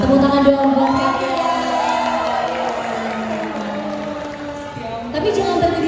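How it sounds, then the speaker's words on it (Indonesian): Fans at a meet and greet for a singer in Jakarta cheer and shout in a steady crowd roar that fades slightly, then swells again near the end. "Tepuk tangan dong buat kalian."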